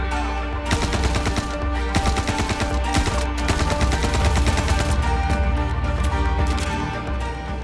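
Rapid automatic gunfire in Star Citizen, a sustained barrage of close, loud shots in fast bursts over a low rumbling game ambience.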